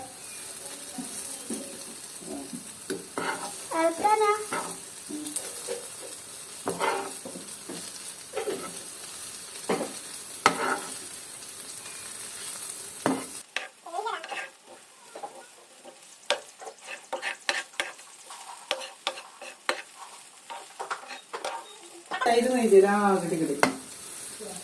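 Spicy chicken masala frying in a pan while being stirred, with scraping and clattering strokes of a spoon, bursts of sizzling, and gaps of quieter background between the stirring passes.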